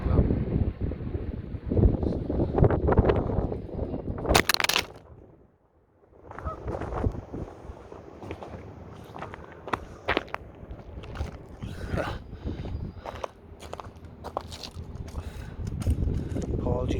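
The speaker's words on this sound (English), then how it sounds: "wind blew the camera over. See, it is quite gusty." Gusty wind buffets a camera outdoors beside water where cormorants sit, blowing it over: loud rumbling wind noise, a sharp clattering knock as it falls, a brief lull, then steady wind rumble with scattered handling bumps.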